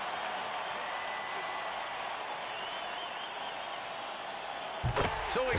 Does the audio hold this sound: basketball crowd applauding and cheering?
yes